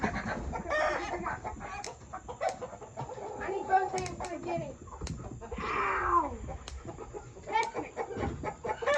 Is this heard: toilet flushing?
no